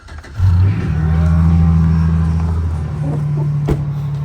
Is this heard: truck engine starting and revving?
yes